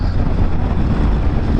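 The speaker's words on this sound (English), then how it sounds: "an extremely windy day," Strong wind on an extremely windy, blustery day, a loud steady rumbling roar buffeting the microphone for the whole short stretch.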